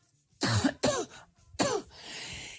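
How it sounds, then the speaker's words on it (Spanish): Three deep, chesty coughs in quick succession from one person close by, followed by a soft breath. "me van a escuchar toser porque tengo una tos profunda"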